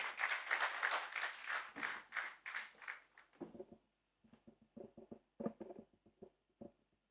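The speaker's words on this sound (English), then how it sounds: "Round of applause, ladies and gentlemen." Applause from an audience, quiet and distant, with a dense patter of clapping that thins into scattered claps.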